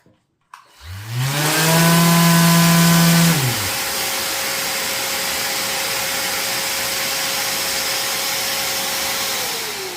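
A Nilfisk dust extractor vacuum spins up with a rising whine, holds a loud roaring tone for a moment, then settles into a steady, lower continuous hum of suction.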